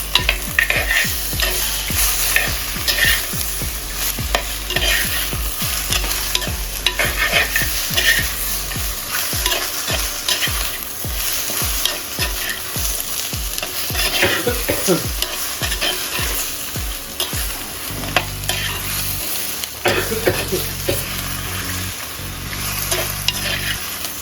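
Chicken tossed with spices in a hot pan sizzles loudly and continuously while a spoon scrapes and stirs in quick repeated strokes, with no talking.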